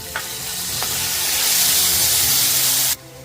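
Onion hitting hot oil with garlic paste and ginger-chili paste for dhaba-style masala bhindi, giving a loud steady sizzle that swells after a couple of faint taps, then cuts off abruptly.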